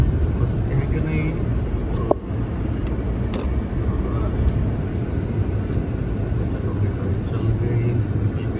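A car pushes through piled-up snow on a cleared road after a big snowstorm, its engine a continuous low rumble with a sharp knock partway through, while people talk over it.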